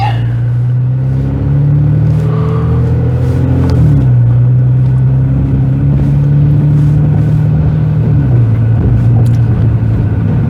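A car cruising at night through the streets of Galveston Island, its engine giving a loud, close, steady low hum with slight pitch shifts as speed changes, plus faint road noise and occasional small clicks.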